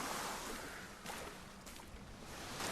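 Ocean waves wash and surge in the video game Don't Starve Shipwrecked while sailing, a soft broadband rushing with a few swelling crests and no voices.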